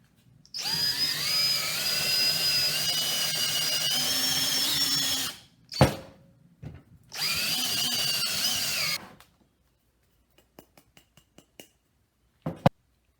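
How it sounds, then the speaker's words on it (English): A power drill bores a hole in wood for a homemade wooden trench club, two loud sustained whining bursts separated by a brief gap, followed by a few faint clicks and taps. "Take your drill bit, take this drill bit right here, and stick it in your smaller hole."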